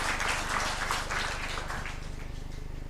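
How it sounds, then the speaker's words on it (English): An audience at a health system and research session applauds: faint, steady clapping from many hands, sustained for a few seconds and tapering slightly toward the end. "So let us all give a big round of applause to the"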